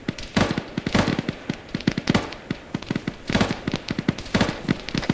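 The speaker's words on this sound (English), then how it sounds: "I'm hearing gunshots from over that direction still." Rapid bursts of gunfire crackle at a moderate distance in a snowy outdoor setting. The shots come in quick, irregular clusters with short gaps between them.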